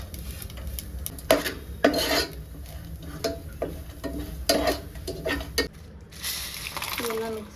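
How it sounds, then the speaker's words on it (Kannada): Coconut is roasted in a pan for a home-style tondekai palya, with quiet, intermittent scraping and stirring strokes of a spatula against the pan over a low background, and a voice speaks briefly. "ಈಗ ತೆಂಗಿನಕಾಯಿ ಹುರ್ಕೋಬೇಕು"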